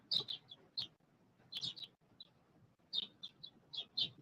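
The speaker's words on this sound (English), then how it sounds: "the birds loud coming through the mic" Small birds chirp near the microphone in quick, bright clusters of tweets, separated by short pauses, fairly close but soft overall, with no talking.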